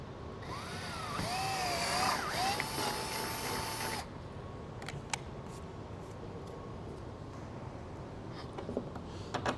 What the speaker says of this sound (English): Find the dimple and then you'll drill your hole through.